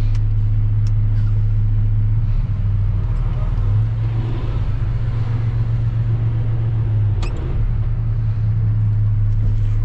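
A pickup truck reverses slowly, its steady low engine drone holding loud and close throughout, with faint background noise and no talk.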